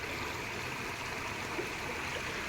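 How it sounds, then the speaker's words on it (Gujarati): Rainwater rushes steadily through a market street after heavy rain, giving an even, close hiss of flowing water with no talk. "આ બજારમાં પાણી જાય છે"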